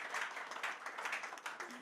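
Audience applause at a panel event on brain capital and the built environment, a brief, fairly faint burst of many hands clapping steadily with a voice speaking underneath.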